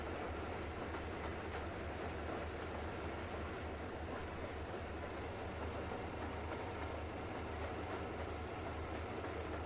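Train rolling along in the Metro Exodus video game, a steady low rumble with dense mechanical rattle and faint clickety-clack running continuously and loud throughout, with no one talking.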